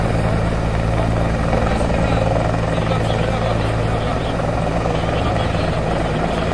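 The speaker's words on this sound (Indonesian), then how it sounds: "Heli naik, hantam rumah." A loud, close Indonesian military helicopter taking off in Papua roars continuously with thumping rotor noise and engine whine, filling the whole stretch without letting up.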